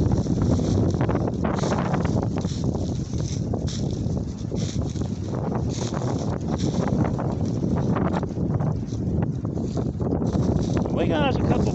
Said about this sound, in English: That wind getting stronger.